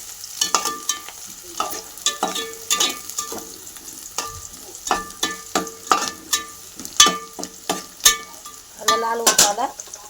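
Garlic cloves fry in oil for kheema, a steady sizzle broken by repeated sharp scraping strokes of a spoon stirring in the pan, close and moderately loud.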